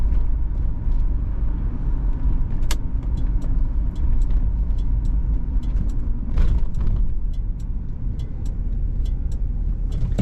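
A 1978 Buick Riviera engine idles steadily, a smooth low rumble held at close range throughout, with a few faint clicks and a brief rising whoosh partway through.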